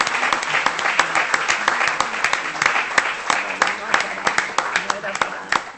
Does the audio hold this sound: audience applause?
yes